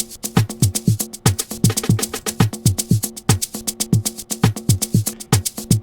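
A programmed percussion loop from a 3 step beat in FL Studio plays alone, with steady, closely spaced hits carrying a pitched low thump and bright clicky tops in a repeating groove.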